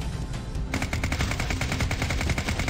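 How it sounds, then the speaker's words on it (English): Rapid automatic gunfire from a weapon in the game Deadtime Defenders, a dense, evenly spaced rat-a-tat stream of shots that starts abruptly and continues loud and close. "There's just something very satisfying about that rapid rat-a-tat-tat."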